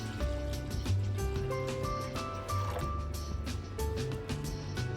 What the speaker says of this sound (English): We're going to return our 3 cups of mint infused water to our pot.